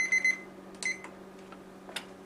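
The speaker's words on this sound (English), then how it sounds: "Oh, there's a timer, so let me grab that." A kitchen timer beeps in short electronic bursts, a quick pair and then a single beep, fairly faint over a steady hum while chicken fried rice cooks.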